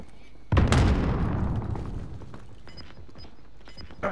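A grenade going off in Warzone Cold War on Rebirth Island: a sudden loud, close boom with a long rumbling decay, followed by faint distant shots and game noise.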